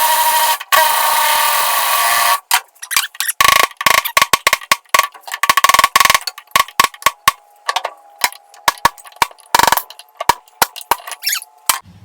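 A power tool backs out the bolts clamping the clutch to the shaft on a King Kutter brush hog gearbox: a steady loud whir at first, then rapid choppy bursts of impacting and clicking, close and alone.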